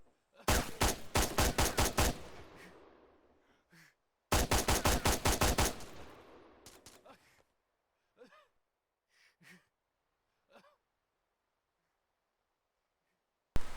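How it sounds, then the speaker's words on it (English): Arma 3 gunfire rips through tower windows in two long automatic bursts of rapid shots with a ringing tail after each. A few separate sharp cracks follow, spaced out amid near silence. "These windows can be shot through. I'll demonstrate that now."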